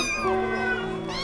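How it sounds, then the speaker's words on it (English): Several cats howling together in an inn's back yard in Mousehole, Cornwall, a sustained wavering chorus of overlapping yowls and caterwauls held loud and steady throughout. "the cats of Mousehole gather and raise a great howling to the memory of old Mouser"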